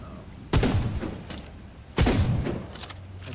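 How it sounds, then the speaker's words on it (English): A shotgun fires twice in the video game Wayfinder, about a second and a half apart, each shot a sharp, punchy blast that decays over the following second, heard fairly close with no talk. "This one's more like a shotgun, it seems."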